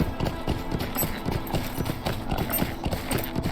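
Steady clip-clop of a skeleton horse's hooves trotting in Lord of the Rings Online, in a quick, even rhythm, close and continuous with no talking.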